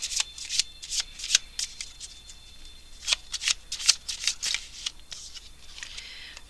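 Tarot cards are shuffled by hand close up, a run of crisp, rapid riffling and slapping bursts in an uneven rhythm with brief pauses, no talking.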